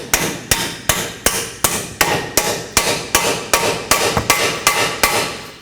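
A hammer drives a strut bolt through the steering knuckle on a 2005-2010 Pontiac G6 with about a dozen sharp, loud metallic blows, evenly spaced and close, each ringing briefly before the next strike.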